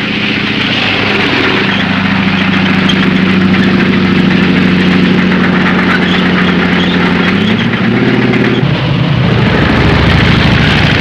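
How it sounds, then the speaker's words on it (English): Armored vehicles of a 1943 North African front advance toward forward positions, a loud, steady drone of running engines with a deep rumbling hum that shifts pitch near the end, no voices. "Our armored vehicles move toward the forward positions"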